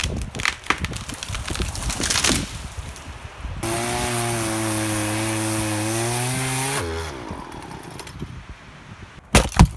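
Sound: chainsaw milling a felled tree into firewood

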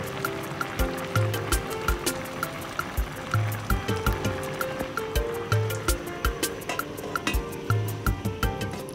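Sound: beans with Knorr cube boiling in pot

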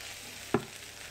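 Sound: potatoes frying in olive oil, stirred with wooden spoon

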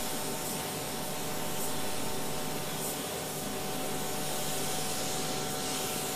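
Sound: spray gun applying final paint coats

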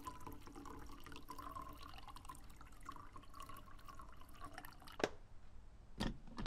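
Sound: coffee machine dripping in horror video game

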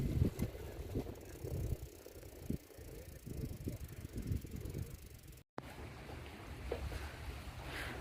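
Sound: bicycle being pedalled along seaside path

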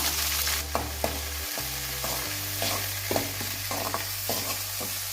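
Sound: sautéing drumstick flowers with onions in oil

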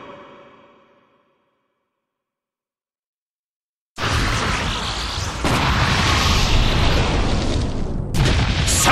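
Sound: Self-destruct move explosion in Pokémon Battle Revolution video game

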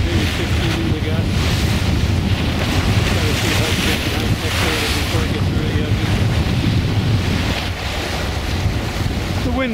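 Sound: wind and waves while sailing

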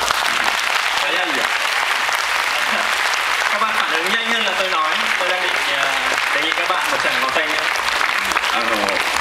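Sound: audience applauding drummers

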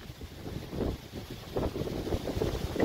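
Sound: strong wind while paddling on water

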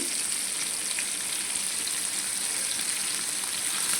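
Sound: fish frying in oil on low flame

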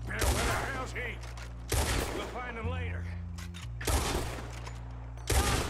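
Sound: gunshots in the video game Red Dead Redemption 2

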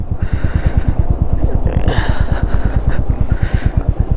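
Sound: motorcycle engine running

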